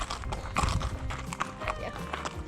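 Hooves of an endurance horse clip-clop at a steady walking rhythm as it is led from the ground, close by, with faint snorting and brief background voices.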